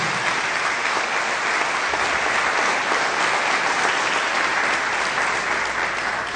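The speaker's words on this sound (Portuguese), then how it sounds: "Diga amém e dê um aplauso bem forte ao Senhor." A church congregation bursts into loud, sustained applause during a men's network service. The clapping is a thick, continuous roar that holds level throughout.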